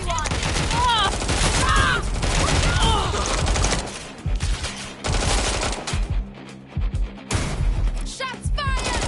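Gunfire in the Watch Dogs Legion video game, loud rapid bursts of shots and crashes layered over game music and voices, continuing in bursts with short pauses.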